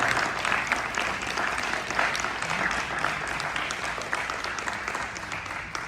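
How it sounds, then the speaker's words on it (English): Audience applause after a presentation, a sustained, dense round of clapping from a sizable group, steady and fairly loud throughout with no voices standing out. "I want everybody to give a good round of applause for the presentation."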